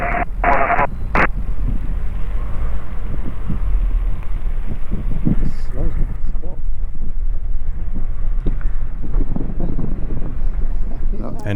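Strong wind rushes steadily and loudly across the microphone during a light aircraft flight, with a brief burst of radio noise near the start.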